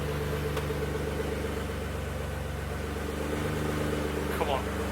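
Warm Mitsubishi GTO engine idling smoothly, a steady low hum with a faint mechanical whir, close and continuous with little variation.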